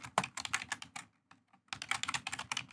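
Typing a Linux touch command on a computer keyboard: two quick bursts of close, crisp key clicks separated by a short pause, with no talking.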